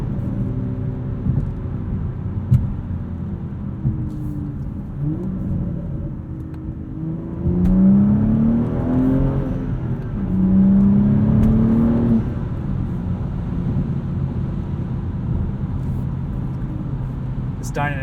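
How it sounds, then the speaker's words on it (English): Modified 2016 BMW 435i with a six-speed manual and Dinan exhaust, heard from inside as it accelerates, its engine note swelling and rising in pitch twice before dropping back to a steady drone. "Dinan exhaust sounds great."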